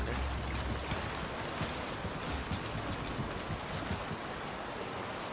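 Steady, dense hiss of heavy rain falling at night on the water near a boat and lighthouse in the video game Bioshock Infinite, continuous and even throughout with no talking.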